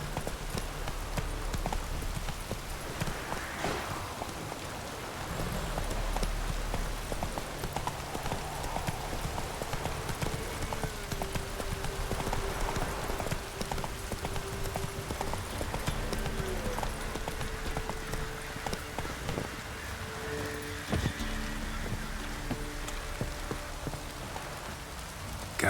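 Hooves of a horse clip-clop steadily in The Witcher 3: Wild Hunt, with rain pattering all around and a faint whinny, while background game music continues throughout.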